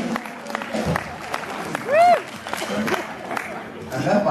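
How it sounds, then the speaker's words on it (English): A comedy club audience at the Irish Open applauds after a joke, a dense patter of clapping mixed with crowd chatter and scattered whistles, moderately loud and sustained. "That's another applause"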